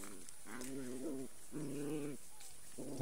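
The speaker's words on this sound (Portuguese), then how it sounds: "Os cachorros brigando ali, ó. Brigando não, brincando, né?" Young puppies play-fighting outdoors beside a fishing spot, giving three bursts of low, rumbling growls with short gaps between them, fairly close and steady against faint background noise.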